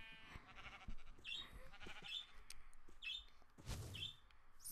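Sheep bleating in a video game, several short bleats scattered over light background noise and chirps, with no talk.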